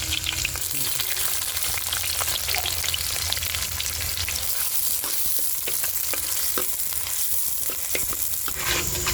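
Onions sizzle steadily in hot oil with mustard seeds and garlic for a mushroom thokku, a dense continuous frying hiss with occasional sharper crackles and light stirring scrapes, no voices.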